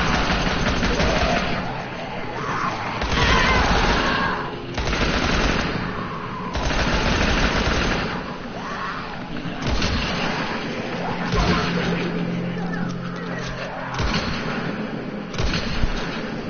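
Gunfire in the video game Dying Light while a zombie is shot, with bursts of loud blasts and crashes that repeat over a dense, busy game mix throughout.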